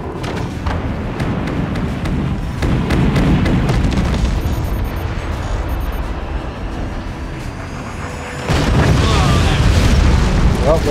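A smokestack is blown apart in the strategy game Forts, giving a heavy booming explosion with a deep rumbling crash over continuous battle noise, and the blast grows louder near the end.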